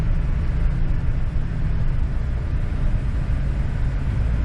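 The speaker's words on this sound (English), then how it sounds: "I think this is going to be Andrew's truck and trailer." A truck towing a trailer drives past as a continuous low engine and road rumble holds steady throughout, fairly close, with no talking.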